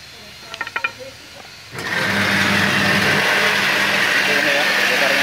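A homemade dowel sanding machine is switched on after a few soft clicks and settles into a loud, steady whirring drone, with brief talk just before it starts.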